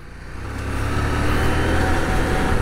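A CF Moto 800MT motorcycle engine drones steadily as the bike rides a rough, rocky off-road track, a loud, close, rising rumble with no talk over it.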